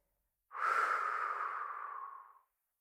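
A single cleansing breath during a yoga session, heard as one long, slow, soft exhale through the mouth lasting about two seconds, close and alone in otherwise silent surroundings.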